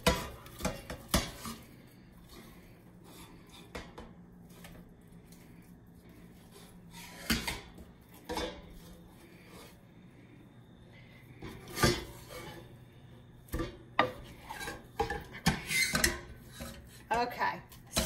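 Thick homemade play dough being stirred in a pot on the stove, scattered scraping and clanking of the utensil against the pot, irregular and close, with quiet gaps between strokes.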